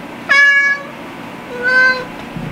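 Two separate meows from a cat come about a second apart, both close and clear over a quiet background hum, with no talking.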